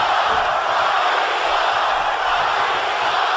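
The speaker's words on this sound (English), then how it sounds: "It looks like some of this crowd chanting Rocky sucks." An arena crowd in the WWE 2K18 wrestling video game chants and roars in a dense, steady wall of noise, loud and continuous.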